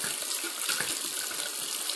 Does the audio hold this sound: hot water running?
yes